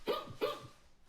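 A dog-bark sound effect plays from a Code.org app, two quick barks in a row at moderate volume, with no voices.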